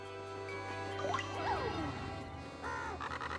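Crows caw in Paper Mario: The Thousand-Year Door: a couple of rising and falling cartoonish cries, then quicker chattering calls, over a soft sustained game music drone.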